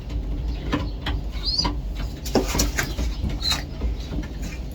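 A pigeon named Cookies, a shy bird of unusual colour, gives soft coos and flutters close by, mixed with light scratching and pattering sounds at low to moderate volume.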